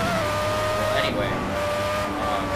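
In the racing game Project CARS, an unlicensed Formula One car laps the Nurburgring with a loud high-pitched engine whine that drops and rises through a gear change, and someone talks over it.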